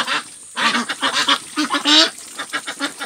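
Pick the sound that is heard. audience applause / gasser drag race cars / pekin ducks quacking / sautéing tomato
pekin ducks quacking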